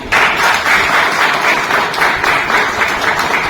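Loud, close clapping from a room of newcomers at an Amway income opportunity seminar, a dense roar of many hands beginning abruptly and holding steady throughout with no talk over it.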